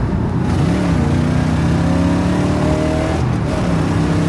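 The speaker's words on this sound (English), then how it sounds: "An LS6 engine with factory aluminum heads." A loud Chevrolet LS6 V8 engine with aluminum heads, in a 1971 car, rumbles and revs close up, the pitch rising and falling through several sweeps over a heavy steady roar.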